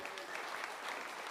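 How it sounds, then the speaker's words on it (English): A short, continuous round of applause from a studio audience, even and moderately faint, with no voice over it. "Round of applause"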